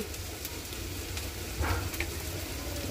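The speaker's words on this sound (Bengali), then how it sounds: "এই যে কাঁচামরিচ দিয়ে দিচ্ছি" Green chilies hitting hot oil in a frying pan give a steady close sizzle, with a brief louder crackling burst partway through.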